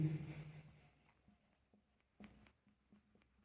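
Chalk or marker scratching across a board during a physical chemistry lecture on quantum mechanics, a few faint strokes and taps in a quiet room.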